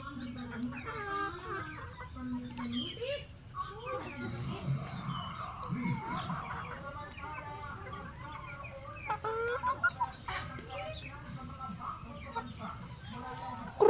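Rhode Island chickens clucking steadily on a chicken farm, a dense chorus of close and distant hens with scattered louder calls, a faint voice briefly in the background.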